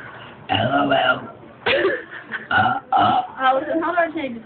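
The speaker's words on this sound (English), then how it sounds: "I love burping." A string of loud, drawn-out burps comes up close, several voiced belches in a row with brief gaps between them, some shaped almost like speech.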